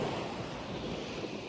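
Surf washing onto a sandy beach on the Oman coast, with steady broadband wash and gentle wind noise, continuous and moderately loud throughout, no voices.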